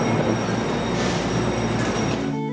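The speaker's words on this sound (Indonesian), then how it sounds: "Kereta ini namanya Express Chuxiang." Chu-Kuang Express train running on rails in Taiwan, a steady loud rumble of wheels with a faint high squeal, heard from inside a passenger carriage.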